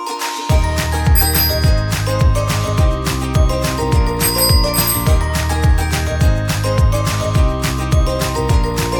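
A bicycle bell rings in repeated bright metallic trills, loud and close, set over a rhythmic musical backing that runs throughout.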